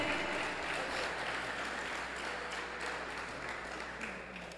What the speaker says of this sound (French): On applaudit l'équipe, s'il vous plaît.